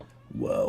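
A house cat gives a single short meow near the microphone, rising then holding briefly, right after a man's quick exclamation over a quiet room with faint music in the background.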